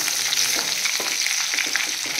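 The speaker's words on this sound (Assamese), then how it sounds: "পিঁয়াজখিনি অলপমান ভাজ খাইছে" Onions frying in oil in a pan make a loud, steady sizzle with dense crackling throughout, no voices.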